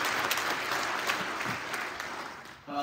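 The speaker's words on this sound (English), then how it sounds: "please give a big round of applause for Luke Bennetts" An audience at a mathematics lecture applauds to welcome a speaker, giving steady, full clapping for a few seconds before it dies away.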